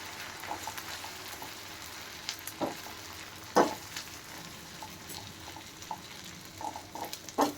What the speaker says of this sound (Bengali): আদা রসুন বাটা দিয়ে তেলটা গ্যাসটা কমিয়ে দেব যাতে কাঁচা গন্ধটা চলে যায়